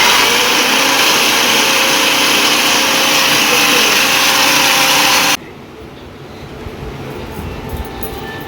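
A mixer grinder whirring loudly and steadily as it chops banana flower for Rajshahi mochar ghonto, then cutting off abruptly, leaving quiet room noise.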